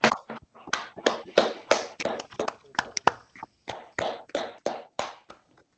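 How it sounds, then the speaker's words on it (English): Participants in an online meeting clap over their unmuted microphones after a talk, giving irregular, sparse, separate hand claps from a few close sources, with gaps between them. "Could everyone unmute their microphones and give Tristan a round of applause?"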